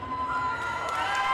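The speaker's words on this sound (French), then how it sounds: "Applaudissements pour Clément." A crowd at a Just Dance French Cup stage cheers and applauds for a dancer, a bright sustained mass of shouting and clapping with higher voices prominent.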